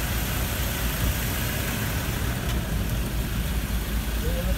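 A Ford Everest 2.2 Titanium Plus diesel SUV idles nearby, a steady, even engine hum and rumble with no revving, continuous and unbroken for the whole moment.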